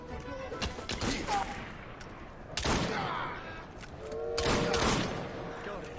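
Gunfire in Assassin's Creed Syndicate, several loud bursts of rapid shots separated by short pauses, mixed with game sounds and a voice speaking between volleys.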